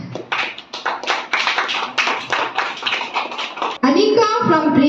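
A school audience applauds a pre-KG star-board first-place winner at an annual children's event, a burst of steady clapping from many hands that fades briefly, then gives way to a voice and music.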